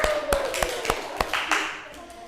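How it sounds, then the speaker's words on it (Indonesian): Applause in a classroom for a student, a handful of sharp claps spread over two seconds, fairly quiet and thin, with faint background voices and room noise. "tepuk tangan untuk Mas Devin"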